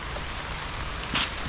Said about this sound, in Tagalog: Ulan mga kaspaki, pero tuloy ang laban.